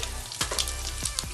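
Crushed garlic lands in hot oil with popping mustard seeds, giving a soft steady sizzle with a few sharp crackles and spatters in quick succession.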